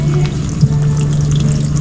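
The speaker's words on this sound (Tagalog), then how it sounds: "Siyempre, lagyan natin ng tubig." Water poured into a pan where fish is cooking, a steady continuous splashing pour with a constant low hum underneath, close and fairly loud throughout.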